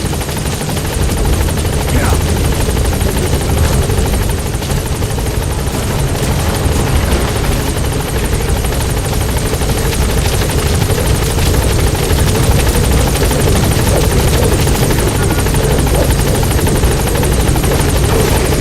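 The support helicopter arrives at a landing zone in Metal Gear Solid V: The Phantom Pain. Its rotor roar is loud and steady throughout, with voices speaking over it at times.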